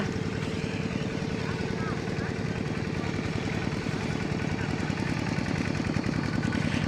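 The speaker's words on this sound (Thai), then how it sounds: "อันนี้รถไถหน่อยธรรมดาเนาะค่ะ" The engine of an ordinary walking tractor runs steadily close by, on a farm in the morning. It makes a continuous, throbbing, rapid chug that stays even in loudness throughout.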